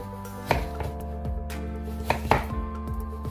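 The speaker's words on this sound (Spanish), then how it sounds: "Ahora vamos a cortar la cebolla." A knife chops an onion into strips on a board, striking it about half a dozen times at an uneven pace. The thuds are close and crisp over a steady low background hum, with no talking.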